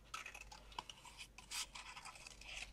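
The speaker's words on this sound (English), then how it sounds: "I'm just going to fussy cut with a little bit of border around it" Scissors fussy cutting a paper scrap for a handmade card: soft, close, scratchy snips and rasps of blade on paper, quiet and uneven in rhythm, with no talk.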